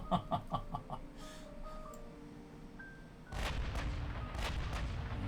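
Naval HE shell gunfire from warships in Ultimate Admiral Dreadnoughts: a run of quick booming shots early on, then a heavier sustained rumble of salvos and explosions, with faint tonal game sounds between.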